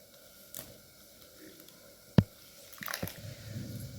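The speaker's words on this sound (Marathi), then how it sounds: "या प्रकारे धुवून पिळून आपल्याला दुसऱ्या पाण्यात टाकायचे" Soaked soybean chunks are pressed and squeezed by hand in water, giving soft, sparse squishes and drips with one sharper splash, quiet and close.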